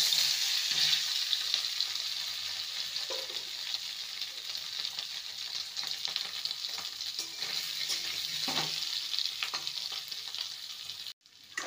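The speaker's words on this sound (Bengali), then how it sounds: "আলুগুলোকে ভেজে নিয়েছি," Cut potatoes fry in refined oil in a wok, a steady dense sizzle and crackle throughout, with occasional stirring clatter, then a sudden drop near the end.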